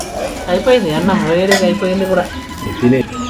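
Aloo egg rice being stirred in a pan on the stove, a spoon scraping and clinking against the metal over a soft sizzle while someone talks throughout.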